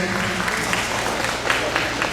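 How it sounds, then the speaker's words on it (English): Crowd of entrepreneurs at a Hmong business gathering claps in a short round of applause, steady and moderately loud, with a voice talking over it. "give all of you guys that attend here a round of applause for showing up"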